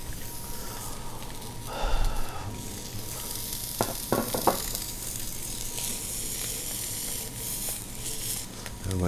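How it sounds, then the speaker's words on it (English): Tuna searing in a hot pan gives a steady, moderate sizzle, with a few brief clatters of a utensil against the pan partway through, no voices. "This is gonna be the last side that it needs to be seared, and the tuna's gonna be ready."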